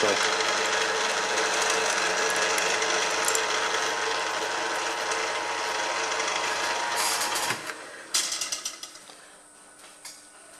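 A machine on a Ferguson TE20 tractor job, used to machine a Zenith 24T carburettor, is wound by hand, giving a steady close mechanical whirr with faint ratcheting ticks that stops abruptly, followed by a few scattered clicks and knocks.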